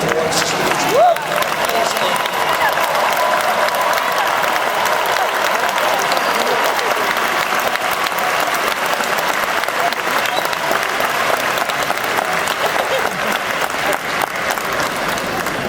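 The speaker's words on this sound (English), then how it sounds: "As you hear these applause and these yells" A large graduation crowd at a Texas A&M ceremony claps and yells in loud, sustained applause, a dense continuous roar of clapping with scattered shouts throughout.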